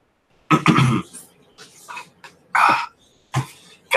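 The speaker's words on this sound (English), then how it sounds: "Got this cough from my son. It's killing me today." Several harsh, close coughs come in short bursts, separated by brief pauses and quieter wheezy breaths.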